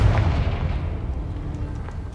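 A deep, booming blast from the Confringo spell in Hogwarts Legacy, a single heavy low-end explosion that rolls and decays over a couple of seconds with no talking.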